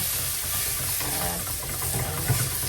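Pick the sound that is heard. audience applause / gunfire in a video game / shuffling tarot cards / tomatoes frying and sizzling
tomatoes frying and sizzling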